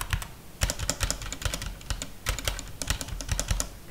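Brisk typing on a Cosmic Byte Pandora mechanical keyboard fitted with red Outemo switches, a dense run of close, crisp keystrokes with uneven rhythm and no talking.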